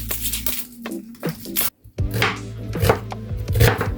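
A knife chops an onion finely on a board for chicken ramen, with quick repeated thuds in a steady rhythm and one brief pause midway, close and clear.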